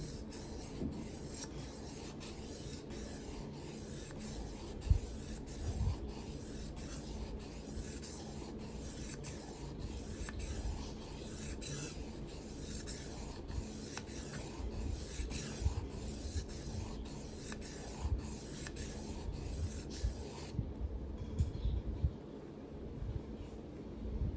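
A Kabar knife blade bevel is sanded on 3000 grit paper with steady, faint rhythmic rubbing strokes, close by and with no talk, before it cuts off near the end.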